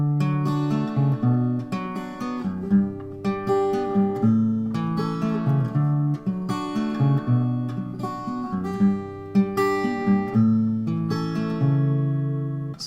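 An acoustic guitar fingerpicks the verse pattern of a song, a steady rolling sequence of plucked notes over changing chords, close and clear with no talking throughout.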